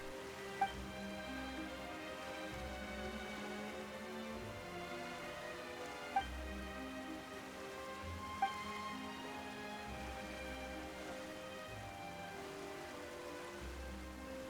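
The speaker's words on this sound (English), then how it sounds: "Why is it raining all of a sudden?" Soft rain patters steadily in the background beneath a quiet musical drone, with a few faint isolated drips standing out.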